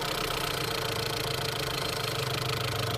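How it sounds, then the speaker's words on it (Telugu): A 2022 MG Hector 2.0 Shine diesel SUV idles steadily, with a continuous broadband engine rumble and a faint knocking texture. The sound is close and even throughout, with no talk over it. "సింగిల్ సెల్ఫ్లో అయితే వెహికల్ అయితే స్టార్ట్ అవుతుందండి"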